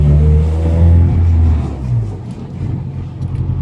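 Honda Civic fitted with Integra Type R brakes being driven around the block, a loud low engine rumble close by that holds steady, then eases into a softer road drone, with no talk.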